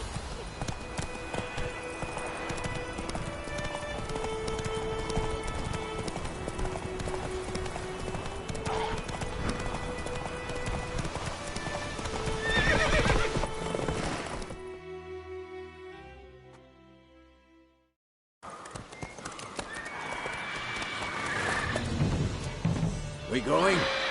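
Hoofbeats from Roach galloping in The Witcher 3 pound steadily, a horse whinnies, and a few crashes and thuds break in before a brief drop to near silence, then the gallop resumes.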